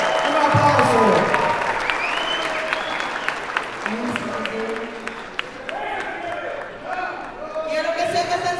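A crowd at a Los Angeles political rally applauds for a singer, with clapping and cheering running under an announcer's loud voice and a busy, echoing hall sound throughout.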